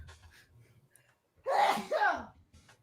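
A single loud sneeze bursts out after a quiet moment, followed by a brief breathy tail.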